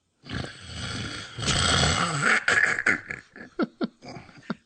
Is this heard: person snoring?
yes